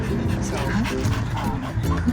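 A shelter dog whimpers and yips softly in short, high, broken cries near the listener, with faint background noise throughout.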